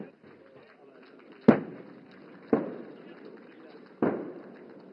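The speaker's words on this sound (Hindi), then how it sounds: "टारगेट एक्विजिशन करते ही ये गन्स अपने डायरेक्ट फायर द्वारा टारगेट ग्रुप 7 पर दुश्मन के टैंक्स को बर्बाद करेंगी।" Artillery guns, including K9 Vajra howitzers, fire direct shots at tank targets during the Bharat Shakti military exercise at Pokhran, Rajasthan. Three distant booms sound about a second apart, each trailing off in a rumbling echo, with faint voices in the background.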